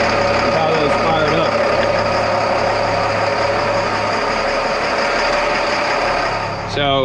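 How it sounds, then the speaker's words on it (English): Twin CAT 3116 diesel engines on a 1999 Tiara 3500 Open cruiser idle while warming up, making a loud, constant low rumble and drone that runs unbroken and close, easing slightly just before the end. "The engines are coming up to temperature"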